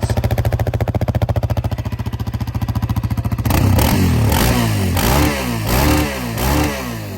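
A Yamaha Raptor 700R SE quad on its stock exhaust idles with a rapid, even putter, then revs up into a louder, rising roar that surges and dips several times.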